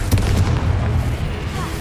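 A Confringo blasting spell explosion in Hogwarts Legacy, a loud, dense booming burst with rumbling low end that fills the short moment, close and continuous.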